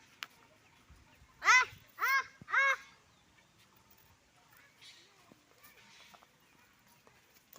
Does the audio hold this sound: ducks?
yes